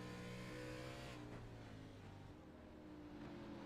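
Race car engine in a sim racing game at Watkins Glen International, a steady loud engine drone with harmonic tones that shift in pitch as it revs, running continuously without talk.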